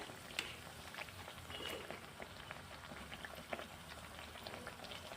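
Aloo pakoras frying in a pan of oil, a steady close crackle with scattered pops and spits throughout, and a couple of sharper snaps as the pieces are turned.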